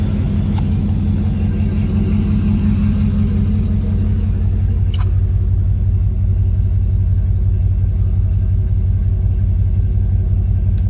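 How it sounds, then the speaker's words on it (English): A 2003 Chevy 1500HD pickup with a 6.0 LS engine idles steadily and close, a deep continuous rumble with no change in pace, plus a couple of faint clicks. "Engine sounds really good."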